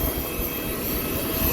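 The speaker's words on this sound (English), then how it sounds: "the jet engine is still moving and letting people out." Jet airliner engine still running after landing in Cairo, a loud, steady roaring whine with a high pitched tone on top, continuous and close by with no talk.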